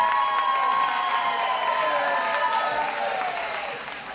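Audience at a local Auburn dance competition event applauds and cheers, a dense steady wash of clapping with whoops and shouts that stays loud throughout before easing slightly near the end.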